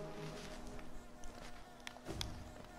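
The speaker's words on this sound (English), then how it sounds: "The noises that these bees are make is really annoying me." Bees buzz continuously in a hive area of the video game Hollow Knight, a faint, droning insect hum with a few brighter chirps and blips from the game over it.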